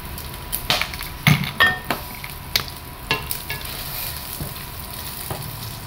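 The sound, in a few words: vegetables being stir-fried sizzling in a pan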